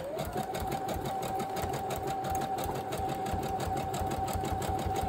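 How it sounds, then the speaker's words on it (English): A sewing machine stitching a craft bag runs continuously, close and steady, with a fast, even mechanical rattle and a constant motor whine. "I need to just stitch that end again"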